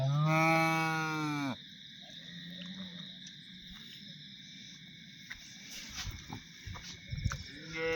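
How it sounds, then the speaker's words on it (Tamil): Cattle and calves at an early-morning livestock market near Karungalpalayam, one loud nearby moo drawn out for over a second and then giving way to scattered clatter and background farmyard noise. "பாருங்கள், நிறைய கன்னுக்குட்டி இருக்குது."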